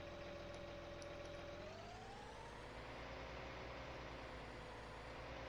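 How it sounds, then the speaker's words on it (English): Deep, steady diesel rumble of a huge tractor engine in Farming Simulator 19, running close and continuous with a low droning tone that shifts pitch slightly partway through, with no talking over it. "This is a huge tractor too."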